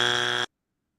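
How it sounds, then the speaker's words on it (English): A quiz game buzzer sounds once in a steady, harsh electronic tone for about half a second, then cuts off abruptly to silence, during a 1970s rock band trivia game. "I got to play my buzzer 3 times already."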